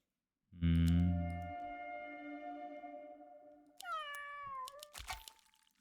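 A cat unit in the Legion TD 2 strategy game lets out a loud synthesized meow, followed by rising game sound effects and clicks.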